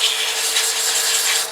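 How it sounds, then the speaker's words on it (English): Sandpaper rubs against a spinning wooden box on a lathe, a continuous bright, hissing abrasion over a steady motor hum, close and loud with no pause. "Sanding is not a high pressure thing."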